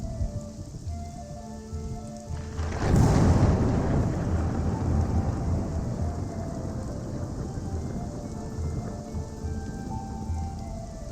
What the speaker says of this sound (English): So as 1 second here, as this happens, you start to hear very loud crashes of thunder, and Toblin rushes over to the door